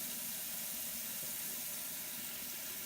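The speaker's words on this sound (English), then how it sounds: "I'm going to fill this sink back up again" Water pouring steadily from a tap into a sink as it refills, a continuous loud broadband rush without breaks and no voices.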